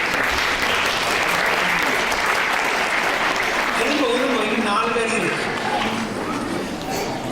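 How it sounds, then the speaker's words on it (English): Steady applause from a sizable crowd at a Bharatanatyam dance debut recital fills the whole stretch, dense clapping that holds level before thinning slightly toward the end, with faint voices underneath. "Please give her a warm welcome and applause."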